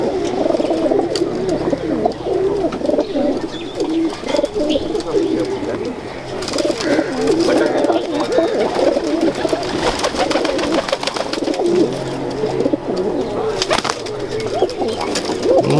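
Breeding pigeons kept in cages coo steadily and close together in a low, repeated chorus while people talk over them.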